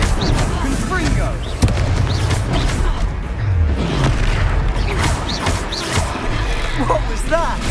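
Booming blasts from the Confringo fire spell during a duel in the video game Hogwarts Legacy, dense rumbling explosions and impacts amid constant battle noise, with voices shouting over the fighting.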